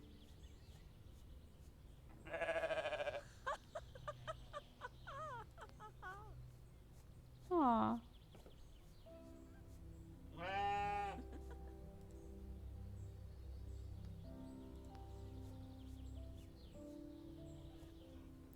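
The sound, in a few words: goats bleating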